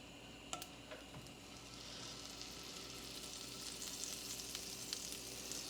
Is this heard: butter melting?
yes